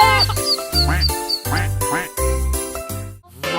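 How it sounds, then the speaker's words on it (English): A duck quacks repeatedly in a steady rhythm over bouncy nursery rhyme music, each quack loud and clear against the tune. "She said quack, quack, so loud and clear."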